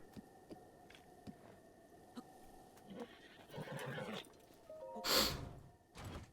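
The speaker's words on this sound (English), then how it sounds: "And this horse does not like to be ridden." A horse in Breath of the Wild gives a loud, breathy neigh near the end, after several softer snorts and huffs against a quiet game soundscape.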